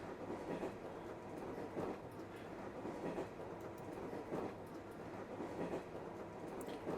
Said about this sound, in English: Annoying train noise again.